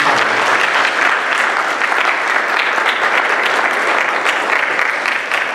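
A conference crowd at a medical CME event gives a loud, steady round of applause, close and continuous throughout, with no talking over it.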